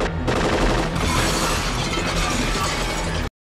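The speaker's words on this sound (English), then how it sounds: "Shoot the glass." A burst of gunfire shatters glass in the 1988 action film Die Hard, loud and dense for about three seconds with crashing, spraying fragments, then cuts abruptly to silence.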